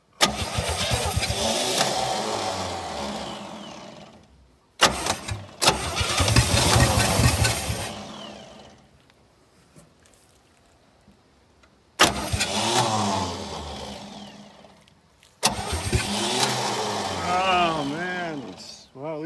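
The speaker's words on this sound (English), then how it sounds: "Starter's going." A 1967 Chevy C-10 engine cranks on its starter and fires in several separate bursts, loud and close, with sputtering catches and brief revs between pauses, while people talk nearby.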